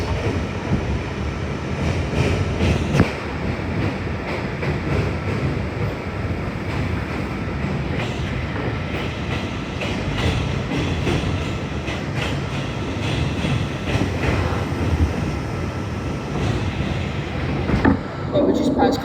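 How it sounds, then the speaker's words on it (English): An R211A subway car on the D line rolls from Coney Island–Stillwell Avenue toward Kings Highway, a loud continuous rumble of wheels and rails with rhythmic clatter throughout and no voices over it. "we're taking this train to Kings Highway from Coney Island"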